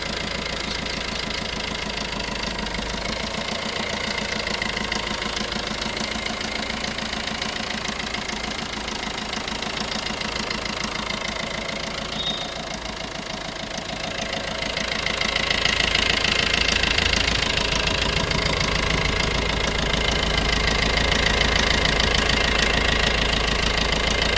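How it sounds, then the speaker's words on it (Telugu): A 2015 Maruti Ertiga ZDi diesel car idles with a steady, clattering knock from the engine, even and continuous throughout, growing slightly louder partway through, with no talk. "ఇంజిన్ సౌండ్ ఎలా ఉంది ఏంటన్నది అయితే ఒకసారి గమనించండి"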